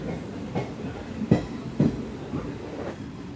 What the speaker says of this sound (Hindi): इस वक्त हमारी ट्रेन स्किप कर रही है रायका बाग पैलेस जंक्शन से